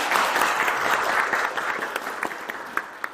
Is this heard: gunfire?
no